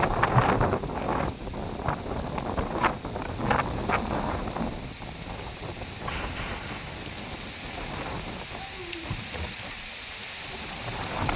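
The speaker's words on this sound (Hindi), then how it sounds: "जैसे शदीद इस वक्त हवा चल रही है और साथ उसी तरह बारिश भी शदीद हो रही है।" Steady heavy rain with strong gusting wind in a storm in Multan, Pakistan, buffeting the microphone, a dense continuous roar with occasional low rumbles.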